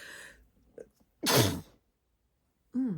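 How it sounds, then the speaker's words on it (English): A single sharp sneeze bursts out after a brief intake of breath, close to the microphone, followed by silence and then a voice starting to speak. "I had to sneeze."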